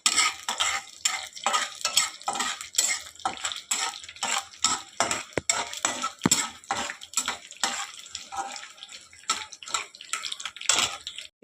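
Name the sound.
frying mustard seeds and fenugreek tempering for sambar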